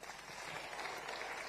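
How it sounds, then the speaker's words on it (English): An audience at a presidential town hall meeting at KICC in Nairobi applauds, a steady, dense wash of clapping hands heard at an even level throughout. "Please, let's give him a round of applause."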